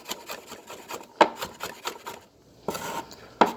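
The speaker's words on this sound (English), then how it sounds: "I'm gonna give it a finer chop." A knife finely chops garlic on a cutting board for penne alla vodka, with quick irregular taps and scraping strokes, a short pause, then more close chops, with no voices.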